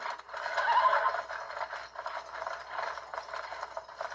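A horse in Red Dead Redemption whinnies loudly and shakily, then keeps snorting and neighing more quietly over a faint rattling background.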